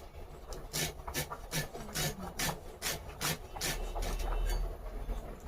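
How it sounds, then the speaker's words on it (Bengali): A knife finely slices food in quick, rhythmic strokes, about a dozen close scraping cuts in a steady cadence with no voices. "এই যে মিহি করে কাটছি"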